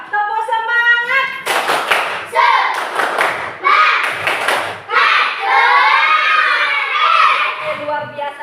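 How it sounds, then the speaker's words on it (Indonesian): A class of children doing the rhythmic Indonesian clap-and-chant called tepuk semangat: bursts of patterned clapping in quick groups, mixed with loud, close group shouting in unison. "Tepuk semangat!"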